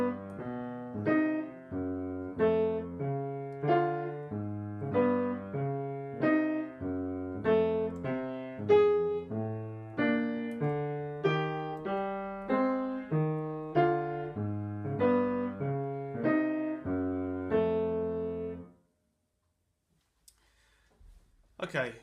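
Jazz piano playing a chord progression over a walking bass line, with steady, evenly spaced chords and bass notes, close and clear, ending in silence with a few faint clicks.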